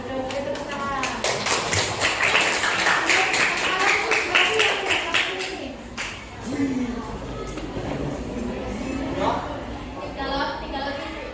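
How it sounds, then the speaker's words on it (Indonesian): Students in a classroom clap together in a brief rhythmic burst, the claps fairly close, followed by voices talking and chattering in the room. "Tepuk tangan."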